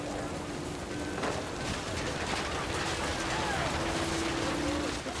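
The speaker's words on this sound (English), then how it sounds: "The rain came down in buckets then" Heavy rain pours down in the video game What Remains of Edith Finch, a dense, steady hiss of falling water with scattered splashes and a few faint tonal sounds mixed in.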